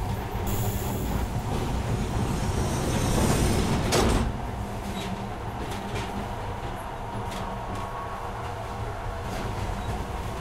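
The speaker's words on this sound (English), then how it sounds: "The doors are closing." Metro train doors sliding shut at a station in the game Metro: Last Light, a loud rushing hiss peaking mid-clip and then settling into a steady rail hum with faint squeals, no voices.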